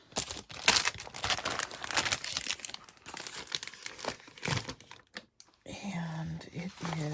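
A large envelope of linen-like material is handled up close, giving repeated crisp crinkles and rustles that come in uneven bursts, with quiet speech heard around them.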